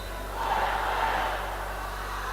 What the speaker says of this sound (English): So just hear the Mona contingent cheering on their team.